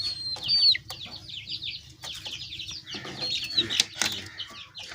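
Chickens cluck and call up close, broken by several sharp bursts of wing flapping.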